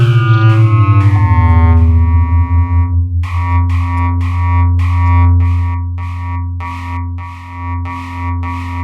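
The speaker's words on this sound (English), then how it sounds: "So there's kind of a blowing effect now." Dawesome Myth physical-modeling synthesizer playing tonal notes with white noise modulated into the mix for a breathy, blowing texture, first held sustained tones, then a steady run of repeated plucked notes, loud and effect-laden.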